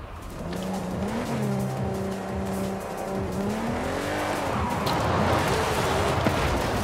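An Italian hypercar in Forza Horizon 5 swings through a J-turn, its engine revving up and down with tires squealing and skidding, loud and close, with no talk.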